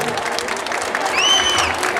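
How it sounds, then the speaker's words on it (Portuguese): Audience at a ballroom dance studio showcase claps steadily throughout, a dense wash of applause with some whistles and faint cheering mixed in. "Mais palmas aí fora, gente!"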